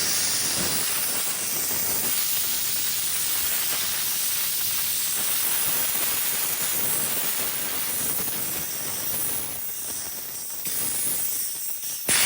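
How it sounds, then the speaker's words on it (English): A loud, steady hiss of compressed air rushing out of an air compressor tank's open drain valve, continuous and close for the whole stretch with only slight dips. "open the drain valve to remove the moisture from inside the tank"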